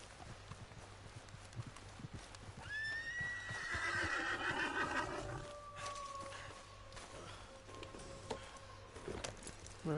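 A horse whinnies loudly once, a high rising cry that trails off into a long wavering tone, over a steady low hum, in the video game Red Dead Redemption 2.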